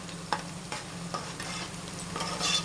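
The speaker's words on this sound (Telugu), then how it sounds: "ఆయిల్ బాగా యూస్ అవుతుంది ఆనియన్స్ చూడండి ఆనియన్స్ కొంచెం కలర్ చేంజ్ అయితే ఇందులో అల్లం పేస్ట్ వేసేసుకుంటాం" Onions frying in oil in a pan while ginger paste is added, a steady close sizzle broken by several stirring scrapes and taps, with no talking.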